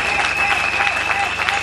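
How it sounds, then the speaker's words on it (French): A church congregation at a Sunday service applauds and cheers steadily and fairly close, a dense even wash of clapping with a raised voice or two mixed in throughout. "Est-ce que tu peux acclamer le Seigneur?"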